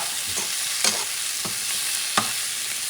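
Tomatoes and eggs sauté in a pan for a stir-fry. A constant sizzle carries through, and a spatula scrapes and taps the pan at regular points, with two louder strikes standing out.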